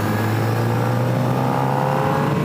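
A Honda CB1000R motorcycle on a test ride holds a steady, close engine drone as the throttle is fed back on, the note edging slowly upward under wind noise, with no talk.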